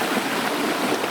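Warm spring water flows at Ikogosi Warm Springs in Nigeria, a loud, steady, close rushing with no pauses.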